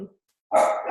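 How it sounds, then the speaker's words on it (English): A puppy gives a single sharp bark up close at the end, following a short burst of voice and a moment of silence. "Seriously, why are we barking?"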